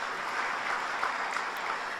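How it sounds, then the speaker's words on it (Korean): A church congregation applauds together at a year-end worship service, a steady, fairly quiet wash of clapping that holds evenly for about two seconds with no voices over it. "우리 서로에게 박수 보내주실까요?"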